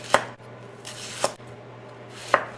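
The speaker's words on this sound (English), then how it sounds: "I'm gonna just go ahead and chop the whole thing down really quick." A knife chops a red onion on a cutting board: three sharp, close chops spaced about a second apart, each a crisp thud against the wood, with no voices.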